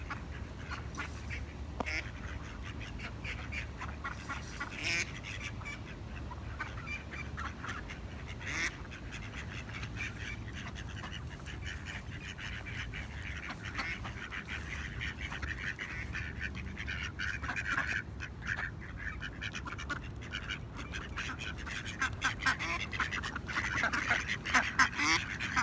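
Hungry ducks quack at a feeding spot, a dense, continuous chorus of overlapping quacks and some honks close by, busy throughout and growing slightly louder toward the end.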